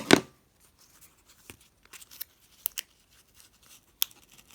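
Scissors snip through exercise tape in a series of short, crisp cuts, one loud snip at the start and then several lighter clips spaced irregularly, close by and otherwise quiet.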